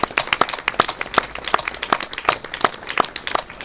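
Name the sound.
applause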